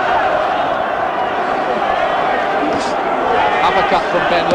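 Boxing arena crowd urging on Nigel Benn in his fight against Steve Collins, a steady roar of chanting and shouting beneath a ringside commentator talking continuously.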